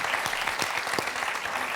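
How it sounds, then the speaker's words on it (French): A television studio audience applauds dancers who have just performed a waltz, a dense, even wash of clapping heard alone and fairly quiet throughout. "Ah, on peut les applaudir."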